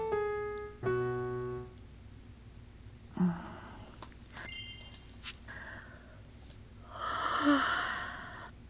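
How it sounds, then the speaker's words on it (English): A female character in the White Album game lets out a long, drawn-out yawn, starting with a voiced tone and easing into breathy exhaling, quiet and close with small clicks between. "That was like the longest yawn."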